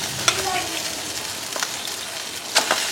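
Marinated chicken goes into a pan with already fried onions and sizzles steadily up close, with a few sharp spatula scrapes and clatters over the constant hiss.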